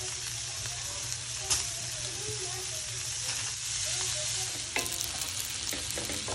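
Shrimp sizzle as they fry in a pan, tossed in alongside rice and meat being browned, with steady stirring scrapes and a continuous close frying hiss throughout.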